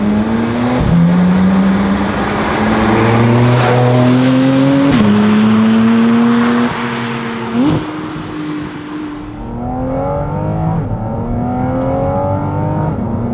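A Porsche 718 Cayman GT4 RS on a wet, slippery forest road, its engine loud and close as revs climb through repeated gear changes, each upshift a sharp drop before the pitch rises again.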